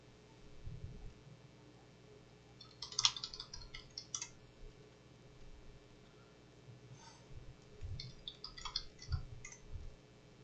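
Typing on a computer keyboard during play of a DOS text adventure, two short bursts of quick, close, quiet key clicks separated by a pause, with low rumbling background noise.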